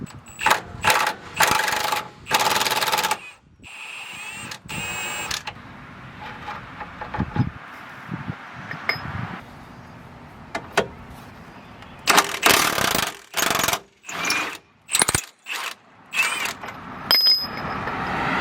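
A wrench loosening the front control arm bolt on a Honda EP3 Civic during suspension teardown, heard as bursts of mechanical ratcheting and clanking separated by short pauses, close and fairly loud, with no talking.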